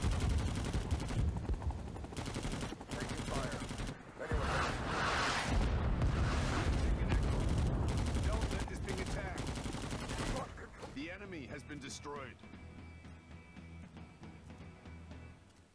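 Heavy gunfire rattles through a Rising Storm 2 Vietnam firefight, with dense bursts and booms that are loud at first and then thin out into scattered, more distant shots.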